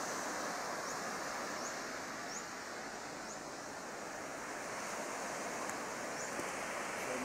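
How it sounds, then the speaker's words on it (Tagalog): Big ocean waves pound a fishing shoreline in a steady, unbroken roar of surf, with wind mixed in and no voices. "Sobrang laki ng alon."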